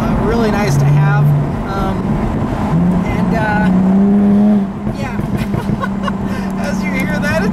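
A 2016 Jaguar F-Type V6 convertible drives with a droning exhaust note that rises and falls between gears, loud and close, under a person talking over it; distinct crackle pops are not clearly separated.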